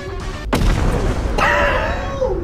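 A bomb goes off in a video game with a sudden loud boom and a broad burst of noise, then a sustained rumbling roar with ringing tones that slowly fades.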